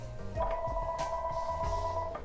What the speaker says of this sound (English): that's a house phone